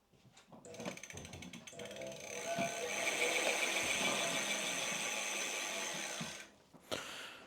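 A 6000-watt electric bike hub motor spins the raised back wheel, a close whirring whine that builds quickly, holds steady for several seconds, then cuts off with a short final burst.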